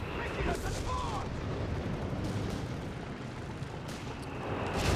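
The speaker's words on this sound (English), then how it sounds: "These half-track mortars now, I mean, that's something." Half-track mortar fire in the Company of Heroes 3 video game, a dense rumble of distant booms and blasts across a busy 4v4 battlefield, with a commentator talking over it.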